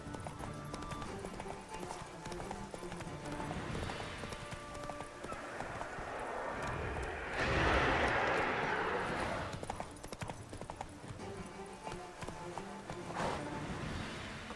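Horse hooves clip-clopping in the video game The Witcher 3, a steady galloping rhythm that runs throughout under a busy game soundscape, with a louder whooshing surge in the middle.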